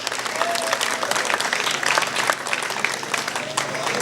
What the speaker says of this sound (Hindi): तो इनके लिए भरपूर तालियां मैं आप लोगों से कहूँगा